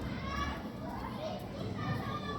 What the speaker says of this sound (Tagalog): So, maingay yung mga bata.